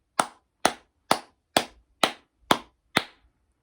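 Seven sharp hand claps, evenly spaced about half a second apart, close and crisp with quick decay and silence between each.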